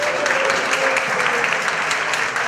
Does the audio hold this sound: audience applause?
yes